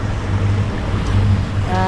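A sailboat's engine runs at low speed while the boat tows a dinghy at sea, a steady droning hum under rushing wind and water that stays loud and even throughout.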